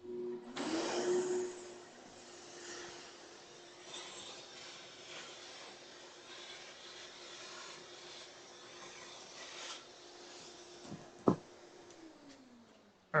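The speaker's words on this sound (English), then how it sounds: "I need to see if I can reach the vacuum without yanking my lav mic" A vacuum cleaner in a workshop whirs up, drones steadily at one pitch for about twelve seconds, then winds down, with a sharp knock just before it stops.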